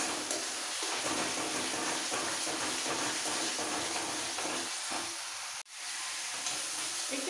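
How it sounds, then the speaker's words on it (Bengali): Cumin and coriander powder sauté in a pan for an egg curry, giving a steady soft sizzle and hiss with a faint stirring scrape and a brief sharp knock near the end. "এবার একটু কষিয়ে নেব।"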